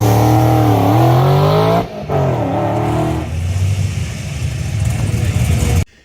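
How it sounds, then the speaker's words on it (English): A 2005 Audi S4 with a 4.2-liter V8 revs loudly and close by, its engine note rising and surging, then briefly dropping before settling into a rough, steady drone that cuts off abruptly. "In 9th place, the 2005 Audi S4."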